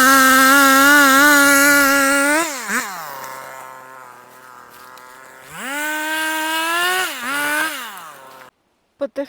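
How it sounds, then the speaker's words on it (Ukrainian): Chainsaw cutting dry fallen trees in woodland, the engine revving high and loud, dropping to a low idle, then revving up again before cutting off, followed by a couple of sharp knocks. "зараз Женя буде їх різати"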